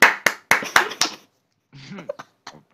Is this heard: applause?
yes